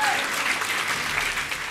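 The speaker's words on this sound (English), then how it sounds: "Hold your applause, please," Crowd applause as a sound effect in a game update event walkthrough, a steady dense wash of clapping that fills the whole short stretch at even loudness, with no talking over it.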